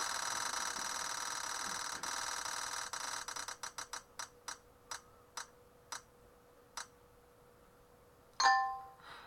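A raffle prize wheel spins for a bonus round. A rapid run of clicks slows into sparse, separate ticks as it winds down, then a bright ding rings out when it stops.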